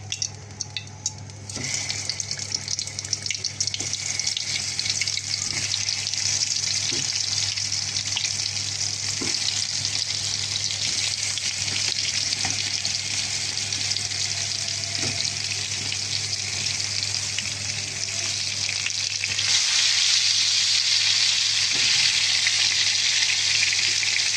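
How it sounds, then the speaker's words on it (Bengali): Pointed gourd (potol) frying in a pan gives a loud, continuous hiss and crackle of hot oil. Faint scrapes and taps of stirring run through it, and the hiss brightens near the end. "পটল ভাজি করবো আজকে"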